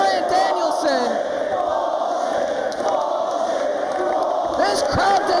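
A large wrestling crowd roars and boos in displeasure after a match is stopped, a loud sustained wash of voices with scattered shouts and whistles.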